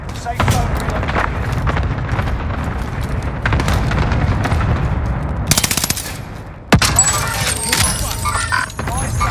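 Cluster strike explosions in Call of Duty: Modern Warfare: a dense, loud barrage of rapid booming blasts rolls on without a break, with sharper cracks near the end.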